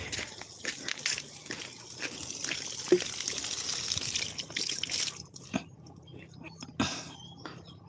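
Water trickles and drips steadily from a running supply going to waste in a backyard garden, against a hissy, noisy background, with faint scattered knocks and rustles.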